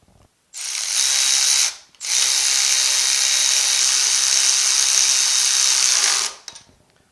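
A ratchet tightens grade 5 bolts on a 1965 Chevelle Malibu SS rear disc brake conversion, producing two loud, sustained bursts of rapid clicking: a short one, then a longer run after a brief pause.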